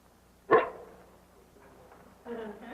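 A dog gives one sharp, loud bark in reply to a question, followed by quiet room tone and faint voices near the end.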